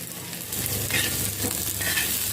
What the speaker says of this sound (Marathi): मी एक मध्यम आकाराचा कांदा तव्यावरती घालते आहे यामध्ये थोडंसं तेल घालते